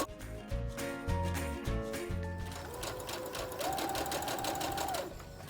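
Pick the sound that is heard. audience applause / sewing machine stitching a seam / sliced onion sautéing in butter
sewing machine stitching a seam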